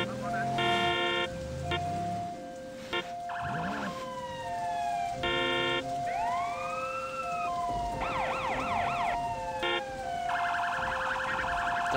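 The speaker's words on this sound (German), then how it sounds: "Oh, der Krankenwagen kommt." Wailing and yelping ambulance siren in the Sleeping Dogs video game, loud and close, cycling through several tones with other electronic alarm-like patterns layered over steady game ambience.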